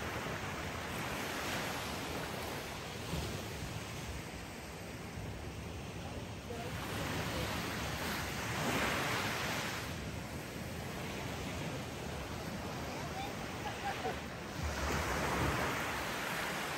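Sea waves rolling onto a beach in Hawaii, a continuous broad wash of surf swelling and receding every few seconds, with wind rumble against the microphone.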